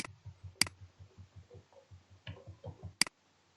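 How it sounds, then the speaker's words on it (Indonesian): Computer mouse clicks while playing Minecraft Education Edition, two sharp isolated clicks about two seconds apart over a faint rhythmic tapping background. "lalu kita klik mouse-nya."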